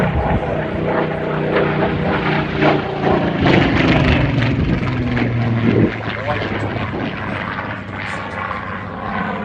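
A P-51 Mustang propeller warbird flies past at an air festival, its loud rumbling engine drone rising and shifting in pitch as it passes, with a commentator talking over the public address.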